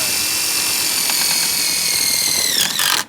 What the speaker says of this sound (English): We're going to drop that screw. This is 1 3/4. It goes through the wood into the steel stud.